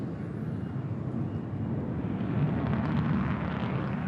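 An F-35C fighter jet with a Pratt & Whitney engine roars at full afterburner during a flyover show, a dense, steady, loud rumble that swells slightly toward the end.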